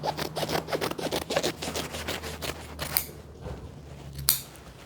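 Scissors snip repeatedly through upholstery fabric along the edge of a button-back desk chair, a quick run of close crisp cuts followed by a pause and a final sharp snip.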